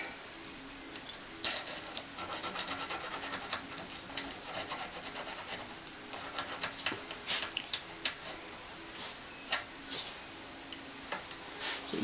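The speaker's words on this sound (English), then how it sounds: "I'm going to file that to get these little burrs off." Small file strokes scraping burrs off a cut edge on a Leupold Zero Point scope part: a close, quiet series of short, irregular rasping rubs and ticks repeating over several seconds.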